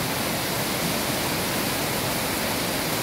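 Steady, dense broadband hiss of heavy rain pouring down, constant and loud with no pauses or voices.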